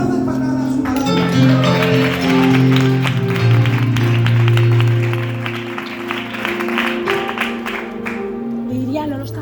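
A church congregation applauds with loud, busy clapping over sustained music, rising and then thinning out toward the end.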